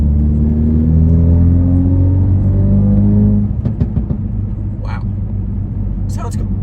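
A Ford Focus RS engine running with its synthetic engine-sound enhancement switched off: a loud, close, steady low rumble that shifts to an uneven idle with small blips partway through.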